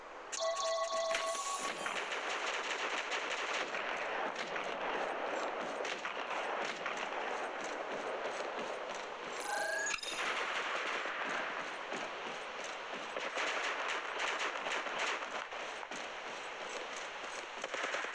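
Gunfire in the Apex Legends Mobile battle royale game, dense rapid shots and cracks continuing throughout with a brief electronic chime midway, loud and close.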